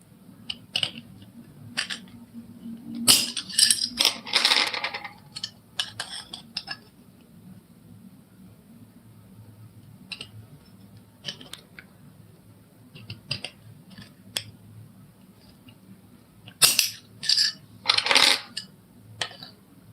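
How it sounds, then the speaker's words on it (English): Thin silver sheet being cut in short nibbling snips for a handmade bracelet, giving bursts of small metallic clicks and snaps with quiet gaps between them, close and fairly crisp. "I'm just going to literally nibble our way along. Cutting the slices."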